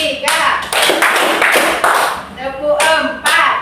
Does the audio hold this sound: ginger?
no